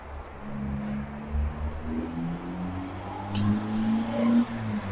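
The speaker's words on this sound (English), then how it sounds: "You can hear the traffic in the background." Steady road traffic hums from a distance near a graveyard close to Galway City, with a continuous low engine drone and occasional passing vehicles rising briefly over the background.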